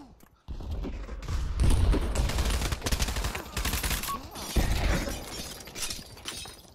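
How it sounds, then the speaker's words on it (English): A string of grenade blasts in Pavlov VR goes off one after another across a container yard, sharp cracking bursts with shattering debris, some louder and nearer than others, spread over several seconds. "Just lobbing nades everywhere."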